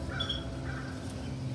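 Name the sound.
crows cawing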